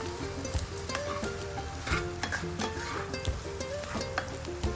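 Potato bhaji filling for masala dosa sizzles as it is sautéed in a pan. A steady frying hiss sits under repeated scraping and stirring knocks from a spatula, close and fairly loud, with no talking.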